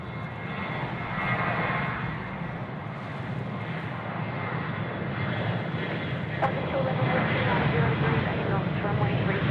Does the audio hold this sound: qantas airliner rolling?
yes